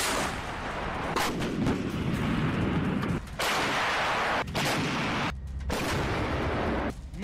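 Artillery cannon fire in the Ukraine war, loud booming blasts sounding in quick succession with brief gaps, close and dominant over a constant rumbling background.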